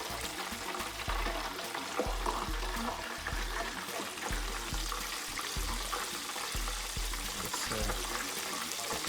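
Chicken frying in grease for Popeyes-style fried chicken, a steady close crackle and bubble running throughout with low rhythmic thumps beneath.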